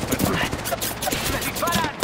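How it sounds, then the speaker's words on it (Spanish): Rapid bursts of automatic gunfire from an online multiplayer shooter game, a dense crackling fusillade filling the short stretch, with a player's voice briefly audible over it. "¡Me disparan!"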